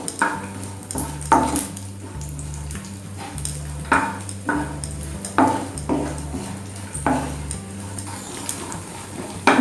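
Chopped dry fruits roasting in leftover ghee for panjiri, a loud nearby sizzle broken by repeated rhythmic stirring scrapes of a spoon against the pan, over a steady low musical background.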